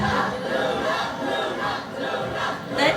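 A concert crowd of K-pop fans roars and chants loudly in a sustained, swelling wall of voices, rising again sharply at the end.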